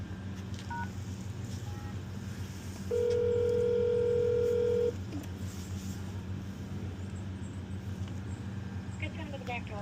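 A store back-door intercom keypad beeps with a single steady tone lasting about two seconds, ringing over the constant low rumble of an idling frozen-food delivery truck.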